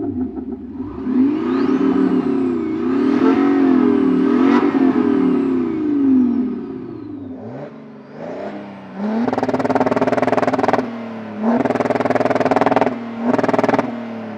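An Audi A6 BiTDI quattro and a BMW 435d xDrive diesel rev in turn outdoors, with a long rising and falling engine drone followed by several sharp blips to higher revs, loud and close with no talk.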